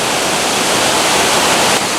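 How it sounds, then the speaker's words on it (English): Loud, continuous rushing roar of a waterfall at La Paz Waterfall Gardens in Costa Rica, a dense broadband wash of falling water heard up close with no voices. "you can see the second waterfall better now"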